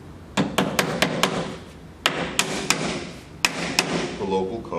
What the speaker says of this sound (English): So you put your drip edge down and you're going to want to nail it off.